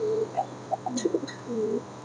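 Pigeons coo softly nearby in short, low, throaty bursts, with a few brief chirps mixed in against a faint background hum.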